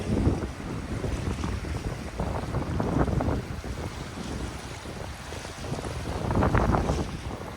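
Steady wind buffets the microphone over lapping water at Diablo Lake in the North Cascades, with gusts swelling louder near the start and again toward the end.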